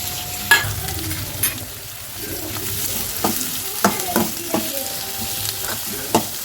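Onions frying in a pan over a gas flame keep up a soft sizzle, broken by a handful of sharp spoon clacks and scrapes as they are stirred at an uneven pace.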